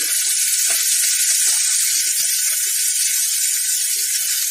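Onions sautéing in a pan as potatoes go in for a savoury vegetable porridge, giving a steady, loud, dense sizzle throughout with a few faint clinks underneath.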